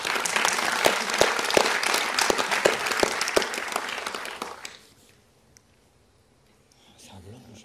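An audience applauds loudly with dense, sustained clapping that fades out abruptly, followed by near silence and faint murmuring.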